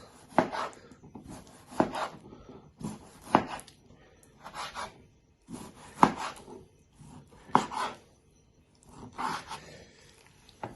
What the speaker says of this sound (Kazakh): Және осындай 2 тауықтың төс етін жақсылап ұсақтап турап аламыз.